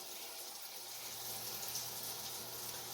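Milk pours into a saucepan of melted butter on the stove, a soft, continuous liquid trickle and splash that stays faint and steady, with no voices.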